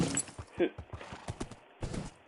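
Horse hooves clip-clopping in Minecraft creative mode, a quick series of light, evenly spaced clops from a fast white horse, fairly faint and close.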